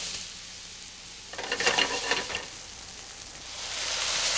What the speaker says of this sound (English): Add marjoram. And stir and saute on a low heat.